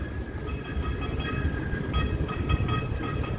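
A train to Hoboken passes through a Jersey City station: a continuous rumble of wheels on rail, with thin steady squealing tones that come and go over about three seconds, no voices.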